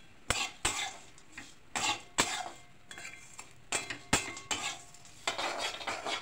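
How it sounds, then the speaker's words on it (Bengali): Flattened rice (chira) and peanuts being fried in a home kitchen pan, with a spatula striking and scraping the pan in a run of sharp, close clinks and stirring strokes. "চিড়ে ভাজা চলছে, বাদাম দিয়ে দিলা?"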